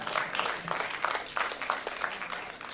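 A church congregation at a Sunday service claps together in a brief, moderately loud burst of overlapping hand claps with a loose, pulsing rhythm.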